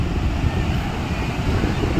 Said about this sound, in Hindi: बाकी लहरें देख लीजिए आप लोग